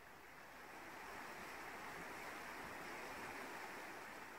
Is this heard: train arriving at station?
no